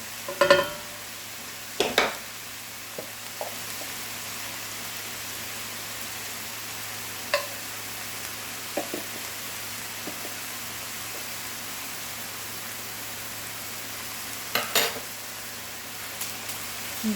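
Two tablespoons of garlic cooking in a skillet for lasagna, a soft constant sizzle with occasional clinks and scrapes of a utensil against the pan.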